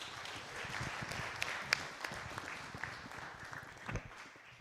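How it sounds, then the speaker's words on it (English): A room of audience members at a climate change panel in Tanzania gives moderate, scattered applause, with a few sharper individual claps standing out before it gradually thins and fades. "A round of applause."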